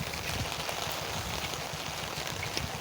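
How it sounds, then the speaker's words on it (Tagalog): Heavy rain pours steadily, a dense broadband hiss of drops drumming on surfaces with no pauses, close and constant throughout. "oh, lakas ng ulan."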